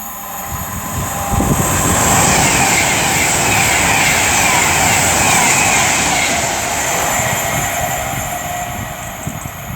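Avanti West Coast Class 390 Pendolino 390039 "Lady Godiva" approaches Tamworth on the West Coast Main Line, a loud sustained roar and rush of wheels and traction with a high whine, swelling and holding steady throughout.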